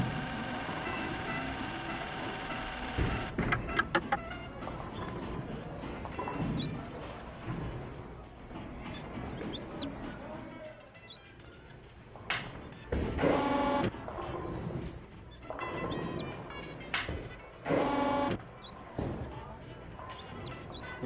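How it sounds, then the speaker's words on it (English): Bowling alley pinsetter machinery clanks and whirs as it moves pins along conveyors and an elevator wheel, with a steady mechanical hum, rattling pins and repeated bursts of louder grinding and knocking, and speech sounds also present. "the pins fall into a pin elevator wheel and are brought up to another conveyor belt that transports them to the pin distributor"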